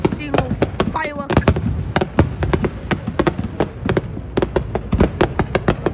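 New Year's fireworks burst over New Orleans in a rapid, irregular volley of sharp, loud booms and crackles, with a voice briefly audible near the start.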